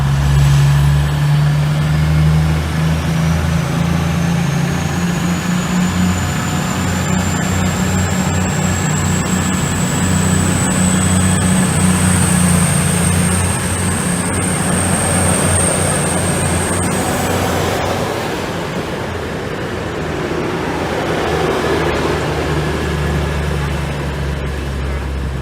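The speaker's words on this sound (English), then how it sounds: "The 1105 East Midlands Railway service from London St Pancras to Sheffield" East Midlands Railway unit 222012, running from London St Pancras to Sheffield, rumbles past with a loud, steady engine drone and a rising whine, fading slightly toward the end.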